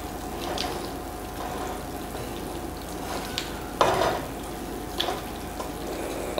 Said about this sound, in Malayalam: ഇളക്കി യോജിപ്പിക്കണം.